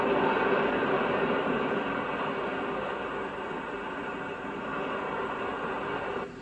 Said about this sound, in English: a passenger train pulls into the station